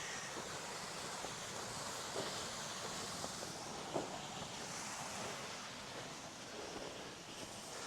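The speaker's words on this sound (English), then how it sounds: "Pretty waterfall." A waterfall on the Lake Agnes trail near Lake Louise in Banff gives a steady, broad rushing roar of falling water, constant and fairly distant, with no talking over it.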